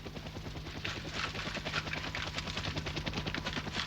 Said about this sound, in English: Here, a German heliborne unit moves in to secure the far shore.